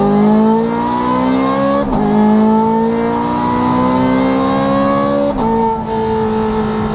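A Ferrari 430 Scuderia's mid-engine V8 screams loudly through the gears, pitch climbing steadily then dropping at two quick upshifts, sustained and close with no talking.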